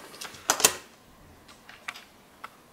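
Packaging of a belt clip kit for a Norêve Tradition leather phone case for the Nokia N8 opened by hand, with a sharp pair of crinkly plastic rustles followed by a few faint light clicks.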